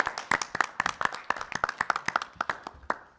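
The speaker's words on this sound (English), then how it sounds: "a big round of applause" Applause at a city council meeting comes from only a few people, giving sparse, distinct hand claps in an uneven rhythm over about three seconds in a quiet room.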